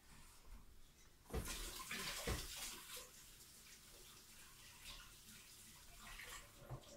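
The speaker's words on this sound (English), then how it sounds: "let me wash my hands real quick here" Water runs at a sink as hands are washed, a steady faint hiss with a louder splashing stretch early on, close and otherwise quiet.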